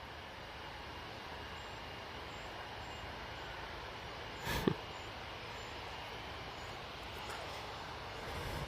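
A Vueling airliner departs Manchester Airport as a faint, distant, steady jet roar, with a brief sharp click partway through.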